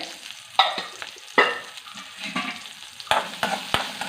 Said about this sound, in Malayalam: നമ്മൾ ഇനിയും ചെയ്യാൻ പോകുന്നത് ഉള്ളി മുളകും കൂടെ ഒന്ന് വറക്കാൻ പോവണേ